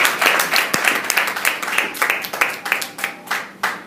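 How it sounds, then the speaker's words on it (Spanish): A church congregation claps in praise of the Lord, a loud, quick burst of many hands that holds steady for several seconds before thinning toward the end. "Pásale un aplauso al Señor"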